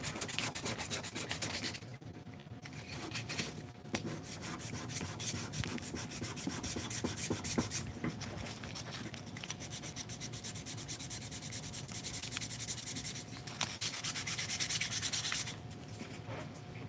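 A wooden puzzle is sanded by hand with sandpaper, giving continuous rhythmic rubbing strokes that run steadily up close, with a few short pauses and no talk.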